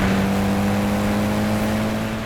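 A Mitsubishi Evo pulls hard on a race track, its engine a loud, sustained droning roar heard close from inside the car, holding steady across the run with no talk.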